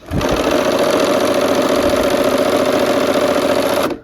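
A sewing machine runs continuously while stitching a quilt strip, a loud, steady, close-up mechanical whir with rapid even needle rhythm lasting about four seconds before stopping abruptly.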